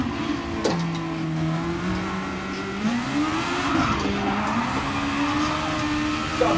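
Open-wheel race car in Gran Turismo Sport, its engine droning loud and steady as the pitch climbs and dips through gear changes, with brief tire scrub and no talking.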